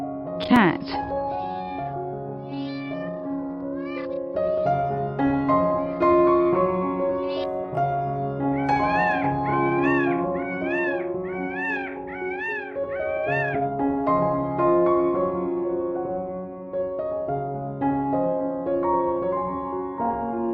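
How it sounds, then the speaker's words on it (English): A cat meows repeatedly over a bright, cheerful melodic music track, the meows rising and falling in a steady run near the middle, with no talking. "Cat."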